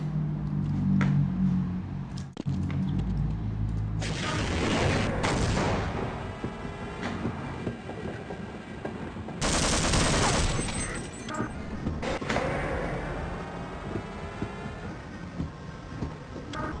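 Turret gunfire in the game Half-Life sounds as bursts of rapid automatic shots, with sharp loud volleys around four and ten seconds and a voice speaking over the action.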